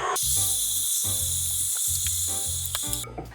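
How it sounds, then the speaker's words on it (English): A heat gun blows on butter with a loud, steady airy hiss and a pulsing low motor hum close by, cutting off abruptly near the end. "I'm going to use my heat gun to heat that a little bit, just to have the butter nice and soft"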